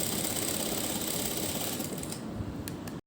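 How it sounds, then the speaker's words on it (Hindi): A sewing machine stitches pin tucks along a fabric strip for a boat-neck design, running in a steady, fast mechanical whir that stops abruptly at the end. "पार्ट को लेते हुए हम सिलाई लगा देंगे।"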